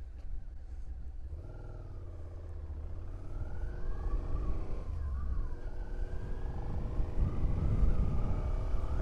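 A 2017 Suzuki SV650 motorcycle running in second gear around 4,900 RPM, a steady engine drone and rumble that rises slightly in pitch and grows louder over nine seconds, with wind noise.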